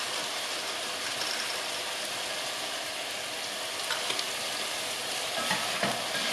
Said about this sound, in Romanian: Amestecăm și lăsăm să se înmoaie legumele.